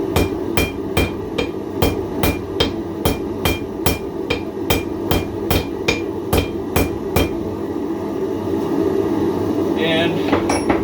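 Hammer forging a square steel section at the near edge of an anvil, with a steady run of about eighteen loud, ringing, evenly spaced blows close by, which stop toward the end, all over a low background hum.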